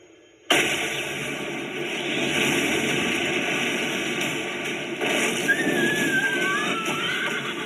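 Horse whinnying amid a loud battle scene in the Attack on Titan anime, a shrill neigh rising over a dense roar of rumbling blasts and wind, close and intense.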